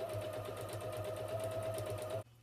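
A sewing machine runs steadily, stitching around the edge of a fabric project envelope, a close, continuous whirring hum that cuts off abruptly near the end with no talking.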